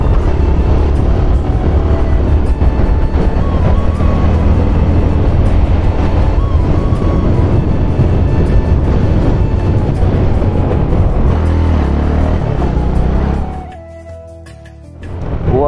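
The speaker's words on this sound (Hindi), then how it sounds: "बहुत सावधानी से चलानी पड़ती है बाइक" A motorcycle rides along a village road with a loud, continuous engine drone and wind rush that holds steady, then briefly dips and returns near the end.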